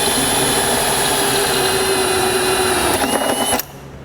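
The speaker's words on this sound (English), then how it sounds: "In order to drill that out, I used a 1-inch hole saw." A 1-inch hole saw on a power drill boring through a 2016 Chevrolet body panel during a tail light wiring install, a steady loud whine that runs unbroken for about three and a half seconds, then cuts off abruptly.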